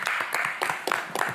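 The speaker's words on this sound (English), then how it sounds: "Can we give them a round of applause?" A small community meeting audience claps in a round of applause, distinct individual hand claps landing in a loose, uneven rhythm, fairly close and without a continuous crowd roar.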